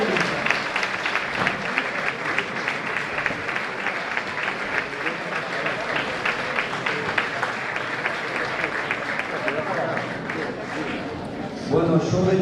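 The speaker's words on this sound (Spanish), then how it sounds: "que aplaudierais un poquitín más hasta que se vacíe el escenario." Sustained, dense applause fills the hall after a folk Christmas music performance at an Asturian holiday song gathering, steady throughout with a slight swell near the end and voices mixed into the crowd.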